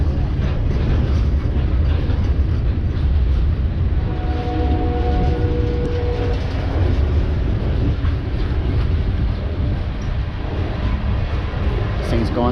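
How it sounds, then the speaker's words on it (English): A slow train creeps past near a Gulfport, Mississippi Amtrak station, a steady loud rumble of rolling wagons with faint tonal squeal, continuous throughout, with a voice talking over it. "Another train coming"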